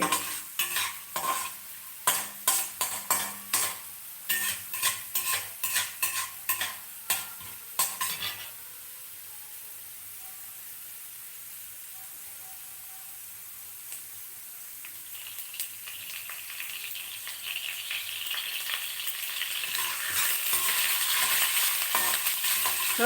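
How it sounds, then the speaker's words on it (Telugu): A spoon knocks and scrapes rhythmically against a pan in a quick run of close strikes, then stops, leaving a quiet frying hiss that slowly swells louder and fuller over the rest of the stretch. "చూడండి ఇది వేగుతోంది కదా"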